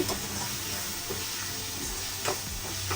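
Onions with turmeric frying in a pan for chicken curry, a steady close sizzle and hiss with a few soft stirring scrapes and light taps of a utensil mixed in.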